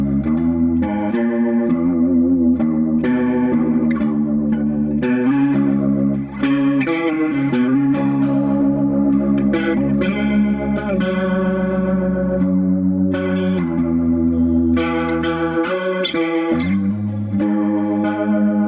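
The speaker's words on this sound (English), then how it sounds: "Obviously it helps that I've got a Leslie sound on at the moment." Electric guitar through a Leslie rotary-speaker effect, giving a swampy, swirling tone; continuous chordal and melodic playing runs steadily and loud throughout, with no talking.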